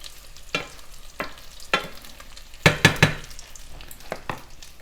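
Potatoes fry in a hot cast iron skillet with a low steady sizzle, broken by several distinct scraping stirs and a quick cluster of three louder clanks from a utensil against the pan, close and without talk.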